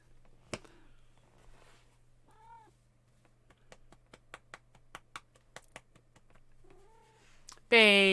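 A pet cat gives two short, soft murring trills a few seconds apart, close by in a quiet room, between a series of light tapping clicks, and a louder burst cuts in at the very end.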